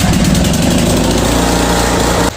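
A loud zero-turn mower engine roars steadily at high revs, then cuts out abruptly right at the end.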